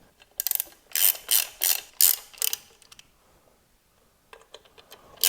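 Ratchet turning in several quick bursts while tightening air filter bolts on a Harley-Davidson V-twin motorcycle during a Screamin Eagle Extreme Wedge air filter install, close and crisp with short pauses between bursts.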